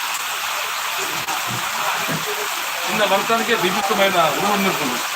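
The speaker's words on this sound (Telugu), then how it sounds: "భయంకరంగా కొడుతుంది వర్షం" Heavy rain pours in a steady, dense roar, and a voice speaks over it during the second half.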